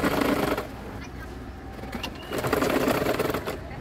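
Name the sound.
sewing machine stitching a petticoat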